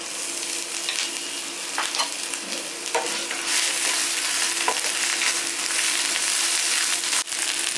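Ginger paste fries in a frying pan for an egg curry, a loud, continuous close sizzle with occasional stirring scrapes and taps and no talk.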